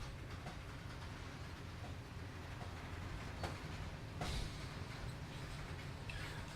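A freight train in Train Simulator 2019 on the Feather River Canyon route rolls slowly through a yard at Quincy, giving a steady low rumble with faint clicks and a couple of brief metallic clanks.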